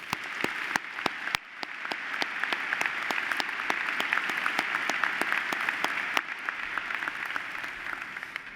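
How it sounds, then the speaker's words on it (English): Graduation ceremony audience at a Georgia Tech spring commencement applauding, a broad steady wash of clapping from a large hall crowd with a few sharp nearby claps standing out, moderately distant. "will you join me in applause for these folks?"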